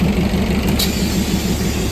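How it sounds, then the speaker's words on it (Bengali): The Darjeeling toy train's engine idles at Sukna station, a steady close rumble with a low pulsing throb and a short hiss partway through. "আর এই হলো আমাদের টয় ট্রেনের ইঞ্জিন।"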